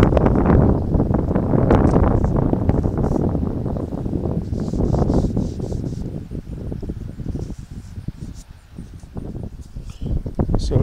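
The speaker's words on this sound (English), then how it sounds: "So it's probably too windy to hear" Strong gusty wind buffets the microphone throughout, a loud rumbling roar that rises and falls.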